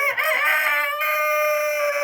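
A farm hen gives one close, loud, drawn-out tonal call that starts with a short rising cluck and then holds steady for about two seconds, with no other sounds around it.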